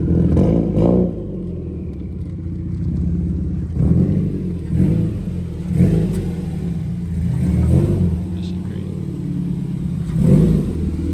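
A Subaru STI engine idles and revs in a loud, steady rumble with periodic surges, heard up close, with no talking.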